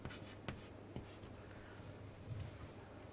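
Chalk or marker writing on a board during an electronics lecture, a few quiet taps and strokes with soft scratching, faint and close, no talk over it.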